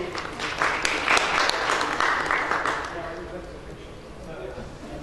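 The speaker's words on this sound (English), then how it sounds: "So once again, a round of applause for all our speakers" Applause from a crowd at an energy storage conference panel discussion in India swells, then gradually fades. Faint voices murmur beneath as the clapping dies down.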